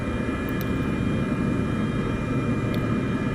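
A jet airliner engine spools up with a steady, loud roar and whine, heard from inside the aircraft during engine start in Microsoft Flight Simulator 2024, with no talk over it.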